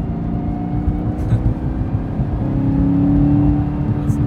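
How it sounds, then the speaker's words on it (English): A 2018 Camaro ZL1 1LE with a Corsa exhaust rolls on the throttle in second gear, heard from inside the cabin as a steady low drone with a rising tonal whine layered over it. "downshift to a second. And just roll into it slowly just to hear the whine."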